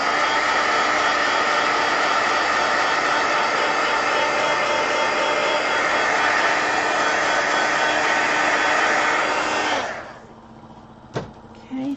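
A handheld hair dryer blows steadily and loudly over wet coloring on paper for about ten seconds, then switches off, leaving faint handling noises.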